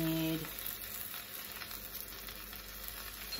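Thick soy sauce hits a hot pan for pad see ew, giving a steady close sizzle that runs throughout after a brief tone at the start.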